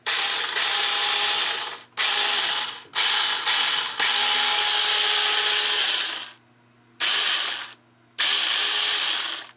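A Sainlogic 6-inch mini chainsaw buzzes loudly in repeated bursts of a few seconds each, starting and stopping with short silent gaps, its high whirring chain close and harsh.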